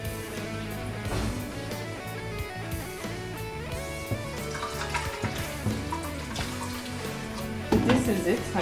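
Tap water runs steadily into a sink, rinsing skin off ingredients while abula is being made. The flow is continuous and moderate, mixed with a voice talking.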